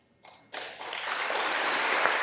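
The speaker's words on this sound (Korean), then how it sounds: "여기서 미국 사람들이 박수를 칠 수밖에 없죠." Applause breaks out in the US Congress during a joint address, starting with a few scattered claps and swelling within a second into loud, dense clapping from the chamber.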